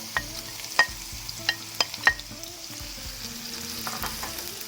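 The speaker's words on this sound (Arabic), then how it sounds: "بنحرك المكونات" Vegetables are stirred as they fry in a pan: tomato, coloured bell peppers, garlic, onion and green chilli. Crisp utensil clicks come early over a soft, continuous sizzle.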